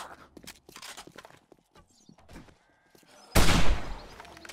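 A gunshot in 7 Days to Die, a sudden loud crack with a rolling tail that follows a stretch of soft footsteps and scattered thumps, close by.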